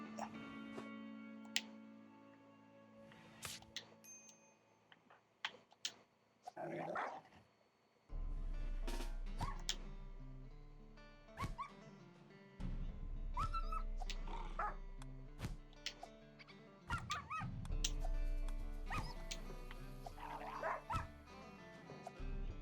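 Several short dog barks and yips from the console edition of the video game RimWorld sound out quietly and intermittently over soft game ticks and a low hum.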